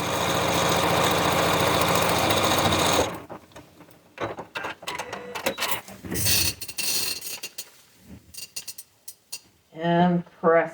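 A sewing machine stitches down a fabric seam on an Iris quilt kit. It runs steadily and close for about three seconds, followed by scattered clicks and fabric handling, with a voice speaking briefly near the end.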